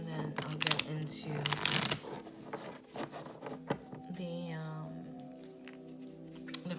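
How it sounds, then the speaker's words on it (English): Oracle cards being shuffled by hand, a run of quick papery riffles and flutters early on, then a softer slide and settling of the deck, close and clear with faint talk and background sound underneath. "that was a good shuffle"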